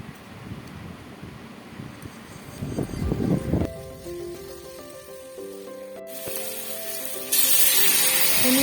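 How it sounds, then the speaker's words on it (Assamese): Hot water poured into frying rice in a pan after about twenty minutes of cooking in oil, a loud steady sizzle and hiss building sharply midway and staying strong to the end. "গৰম পানী দিছোঁ"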